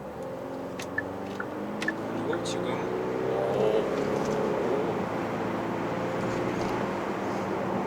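The 2.2 diesel engine of a Genesis GV70 builds in a low, muffled rising drone as the car accelerates, heard from the cabin beneath someone talking.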